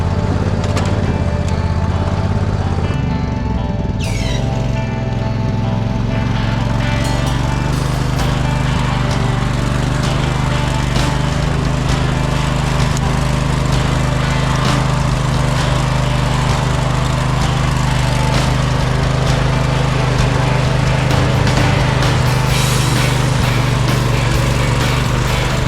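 An old Poulan riding lawn mower pushes through mud, its small engine droning loud and steady at close range for the whole stretch, with a low, constant hum underneath.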